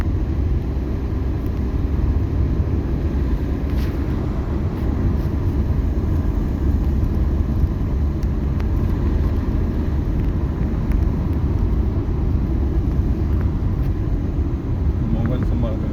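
Car driving along a winding ghat road past coconut plantations, a steady loud engine and road rumble continuing throughout with no clear talk over it.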